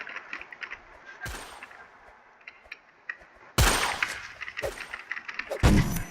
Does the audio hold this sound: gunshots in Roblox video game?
yes